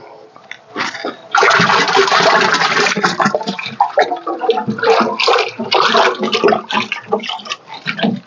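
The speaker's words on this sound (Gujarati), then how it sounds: "હવે આપણે આ સાણ ને જે ડોયો કર્યો હતો એ નાખી દઈએ આપણે એની અંદર" Dissolved cow dung slurry is poured into a jeevamrut mix for organic farming, a sustained loud watery gush and splashing that runs for several seconds close up, followed by uneven sloshing pours.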